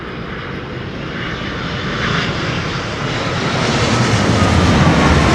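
Jet airliner landing in a crosswind at London Heathrow Airport, a steady broadband engine roar that swells gradually louder over several seconds as the aircraft nears, with no voices.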